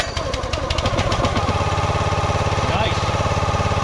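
On the first pull, a YARDMAX YU2566 25-ton log splitter's small engine sputters with a rattling pull-start, then catches and settles into a steady, loud, close chugging idle.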